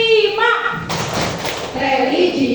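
A group at an SMP 5 junior high school gathering doing a rhythmic clapping chant: a dense patter of hand claps runs under many voices chanting together, loud and close.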